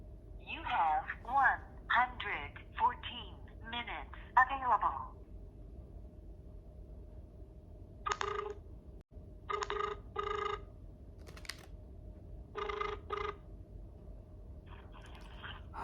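A phone call is dialed, with talk at the start, then a series of short, evenly spaced ringing tone bursts sounding alone.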